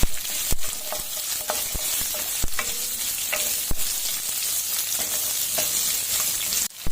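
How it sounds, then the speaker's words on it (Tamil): Shallots and garlic sauté in a pan with a steady close sizzle, punctuated by sharp clicks and scrapes of a spoon stirring against the metal. "அடுத்து இது பொரிய விட்டோன்னே சாம்பார் வெங்காயம், பூண்டு நல்லா வதக்கிடலாம்."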